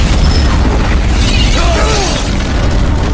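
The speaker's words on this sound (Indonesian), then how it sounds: "tiba-tiba mobilnya meledak" A loud, sustained roar of a big car explosion in a film fills the clip, with rumbling low end, crackling debris and a faint whistling tone drifting through.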